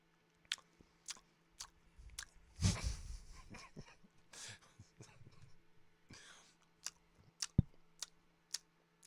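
Spearmint-flavoured gum is chewed close up, with soft wet smacks, squishes and mouth clicks in an uneven rhythm and a louder burst of chewing near the start.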